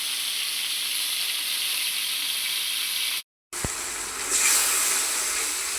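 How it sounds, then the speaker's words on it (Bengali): Chicken meat frying in a pan, a loud steady hiss and sizzle close by, broken by a brief cut, then resuming slightly louder, with no talk. "এখানে আমি মুরগির গোশতটি বাইজা নিতেছি"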